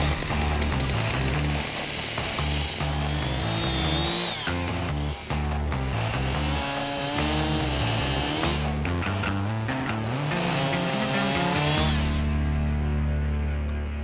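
A chainsaw cuts wood outdoors in Montana, its motor revving and bogging in uneven surges that stay loud and close for the whole stretch, with no talking.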